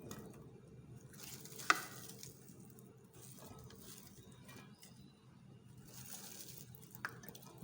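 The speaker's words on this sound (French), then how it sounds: "je vais rajouter les oignons que j'ai découpés" Chopped onions frying in olive oil for a lamb shank dish give a soft, steady sizzle, with a single sharp clink near the start and another faint tap later, all fairly quiet.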